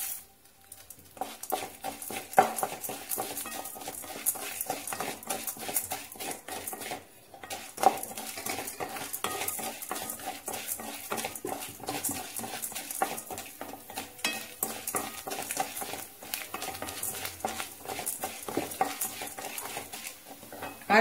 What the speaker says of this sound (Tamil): கடலைப்பருப்பு நல்லா பொரியட்டும்.